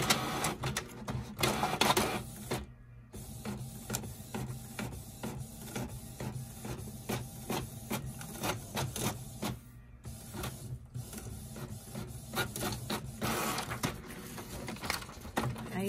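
A slow printer prints a shipping label, giving off a long run of rapid mechanical clicking and whirring with a few brief pauses, up close and almost free of talk.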